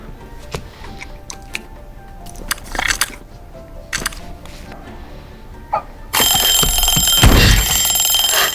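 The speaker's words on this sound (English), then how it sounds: "A sudden alarm clock ringing saved David's life." A clock alarm bursts in abruptly after a stretch of quieter scattered noises, ringing loud and continuous with a dense bright buzz and holding steady to the end.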